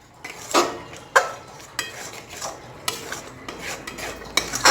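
A utensil scrapes and clatters against a pan while a thick jaggery batter is stirred on the stove, with repeated close metallic knocks and scraping strokes every half second or so, and no voices.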